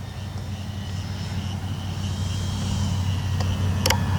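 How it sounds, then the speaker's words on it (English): An Arrows RC Bigfoot model plane coming in to land on grass, its electric motor a steady low drone with a faint whine, fairly near, with a few brief clicks toward the end. "Go ahead and land her in the grass."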